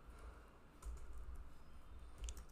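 Keys on a computer keyboard are pressed for a Ctrl+E shortcut, a few soft clicks and taps close by in a quiet room, with no talk.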